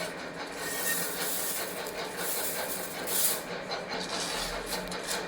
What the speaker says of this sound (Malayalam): അപ്പോൾ അതിനൊരു പാനിൽ അടുപ്പത്ത് വെച്ചിട്ട് നമുക്ക് അവിലൊന്ന് വറുത്തെടുക്കാം